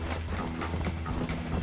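Horse hooves gallop at a steady pace in the Western video game Red Dead Redemption, a dense, continuous clatter close and loud, layered over a low rumbling game soundtrack with no voices.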